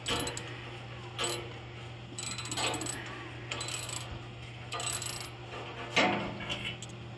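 A ratchet with socket and extension loosens a spark plug in a series of short bursts of quick metallic clicking, close by, with brief pauses between strokes.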